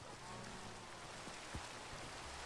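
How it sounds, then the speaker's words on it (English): Rain in Minecraft, a soft, even hiss of falling drops that continues faintly without a break and has no speech over it. "Because it's raining, plus I'm traveling"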